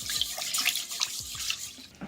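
Tap water runs steadily into a pot or sink for cooking rice, a close, continuous splashing hiss with small gurgles and drips throughout, fairly quiet and without talk.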